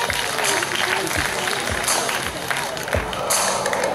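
An audience at an outdoor park concert claps in a sustained burst of applause, dense and close, with voices mixed in.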